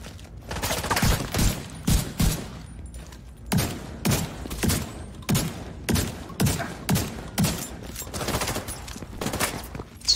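Rapid, repeated shotgun blasts in The Division 2, roughly a dozen loud booming shots spaced about half a second to a second apart, each with a short rumbling tail, and no talking.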